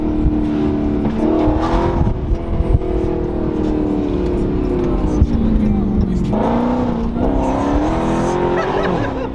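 A Dodge Hellcat's supercharged engine roars and revs through a tunnel during a ride, the deep tone swelling and rising in pitch around the middle and again near the end, loud and continuous beneath excited passenger talk.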